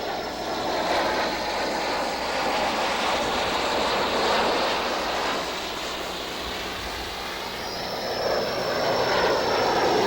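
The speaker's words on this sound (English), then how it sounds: "the 737, 727, and 707 showed the crowd their stuff" Boeing 737, 727 and 707 jet airliners flying past a crowd at Everett send a loud, steady jet-engine roar that holds without a break and swells slightly near the end, with no voices.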